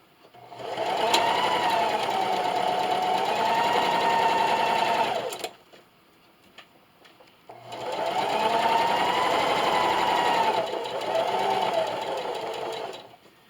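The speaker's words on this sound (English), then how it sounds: "with a 1/4 inch seam allowance, I'm going to sew all the way around" A sewing machine stitching a reversible placemat seam at a quarter-inch allowance runs in two steady, close bursts of several seconds each, with a short pause between them and no talking.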